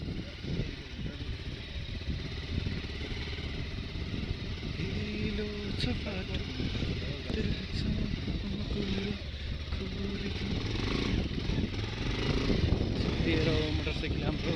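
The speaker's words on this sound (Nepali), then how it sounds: "मोटरसाइकल हाम्रो" A motorcycle engine on a rough, wet road in Sankhuwasabha drones continuously and fairly near, with a steady low rumble under people talking throughout.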